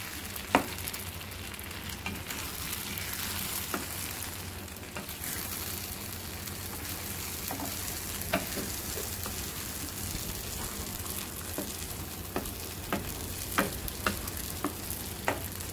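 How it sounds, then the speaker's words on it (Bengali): Four beaten eggs fry in a pan with tomato and are stirred, a soft continuous sizzle broken by scattered spatula scrapes and taps that grow more frequent toward the end; no voices. "এই ঢেলে দিচ্ছি 4টি ডিম, যদি এই ফেটে নিলাম ডিমগুলা। এখন চলতে থাকবে লাড়াচাড়া।"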